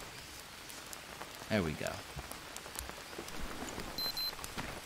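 Steady rain falls in the Green Hell survival game, a soft continuous patter across the whole stretch, with someone talking briefly over it.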